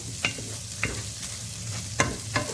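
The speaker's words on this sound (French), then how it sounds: "faire cuire le riz en même temps avec le beurre et l'huile" Rice and vermicelli cook in melted butter and oil, giving a quiet, steady sizzle broken by a few sharp clinks and scrapes of stirring, close and without speech.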